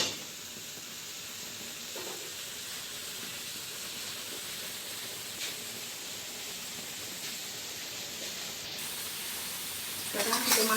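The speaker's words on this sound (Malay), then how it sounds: "Kita tumis selama 10 minit lagi." Continuous soft sizzling and hiss of rice with lemongrass, mint and coriander leaves sautéing in oil, steady and close, with a faint clatter near the end.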